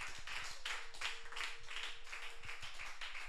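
A church congregation at a Wednesday prayer service claps hands in praise with quick, rhythmic, evenly spaced claps, while a voice calls out briefly over them.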